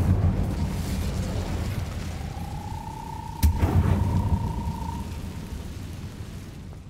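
Incendio fire spell in Hogwarts Legacy, a low rumbling whoosh with a rising tonal hum, then a sudden burst that flares and fades against a steady background drone.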